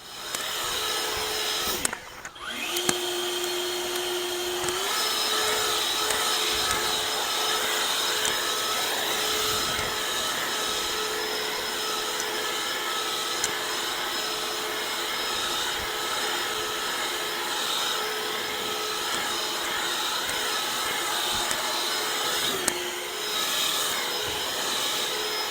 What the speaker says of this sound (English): I'm just going to blow down the lawn here, get off any last debris I can with my blower.